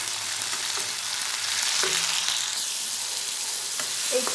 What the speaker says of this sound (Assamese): বিলাহীখিনি দি অলপমান ভাজিম